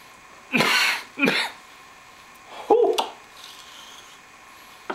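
Three short, harsh bursts of throat clearing or coughing from pepper irritation while cutting peppers, close up, separated by brief pauses in an otherwise quiet room.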